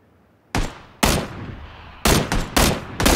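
Gunfire in the battle royale video game PlayerUnknown's Battlegrounds: several sharp, loud shots in separate bursts, the later ones close together in quick succession, with no talking.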